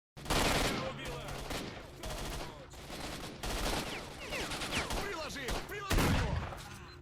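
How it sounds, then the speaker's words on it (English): A gunfight in S.T.A.L.K.E.R. Shadow of Chernobyl: dense, rapid gunfire with overlapping automatic bursts and single sharp shots, loud and continuous for the whole stretch. "I truly love the gunfights in SOC"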